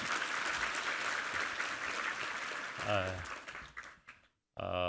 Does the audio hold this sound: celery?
no